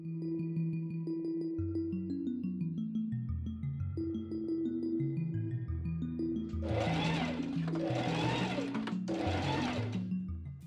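A sewing machine stitches a French seam in linen for a wrap dress, running in three close, steady bursts of a few seconds each over continuous background music.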